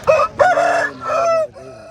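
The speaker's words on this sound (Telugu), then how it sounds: "ఈ పుంజు వచ్చేసి భీమవరం మెట్టవాటం సంబంధించిన పుంజు అండి." A Bhimavaram Aseel rooster of the Mettavatam type, abrasu-coloured, 24 inches tall and about 4.5 kg, crows loudly and close at a Saturday Aseel market in Mydukuru, one full harsh call in rising and falling segments.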